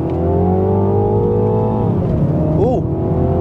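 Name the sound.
Mini Cooper JCW F56 engine accelerating, heard from inside the cabin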